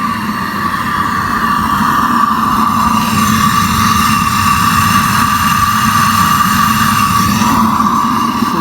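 A homemade metal foundry burner, newly tuned with its nozzle moved down where the pipe reduces to 1 inch, roars steadily and loudly throughout, a continuous rushing drone with a constant tonal hum.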